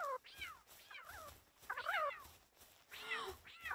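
Cats in Palworld meow repeatedly in short, rising and falling calls, several overlapping across a few seconds, heard fairly faintly amid soft game ambience.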